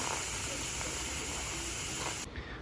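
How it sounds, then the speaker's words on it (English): Steam hisses steadily out of an Instant Pot pressure release valve covered with a towel while lentil soup cooks, a loud constant rushing noise that cuts off abruptly near the end. "you put a towel over the release valve and you turn it on and you let all the steam out"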